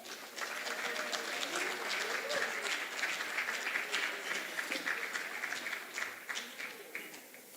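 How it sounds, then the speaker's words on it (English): An audience at a benefit evening breaks into sustained applause for the school president, many hands clapping densely and close, with the sound gradually thinning toward the end. "Give him a round of applause."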